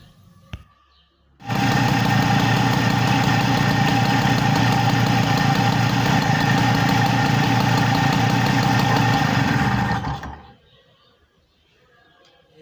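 A Peugeot 103 moped engine idles loudly and close up with a fast, even buzzing putter for about nine seconds, then cuts out to near silence.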